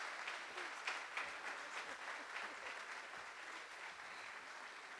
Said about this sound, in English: we will bring with a round of applause to hear her tonight